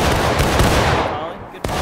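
A loud, dense crash of musket fire from a volley in the War of Rights Civil War battle game, sustained roar with a sharp report near the end, voices faintly mixed in.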